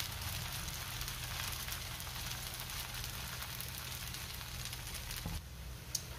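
Cucumber dhirde batter sizzles steadily in a hot pan, a quiet, even crackle that continues throughout, followed near the end by a single faint knock.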